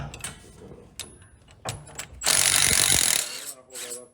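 A hand ratchet clicks while loosening a 15 mm sway bar end link nut on the front suspension of a 2007–2013 Chevrolet Tahoe or Silverado, short clicking bursts, then a louder sustained whir of a power tool, close up.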